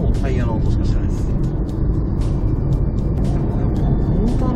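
Steady broadband road and tire noise from a Honda Fit e:HEV hybrid (2021) cruising, a continuous low rumble filling the cabin with no engine note.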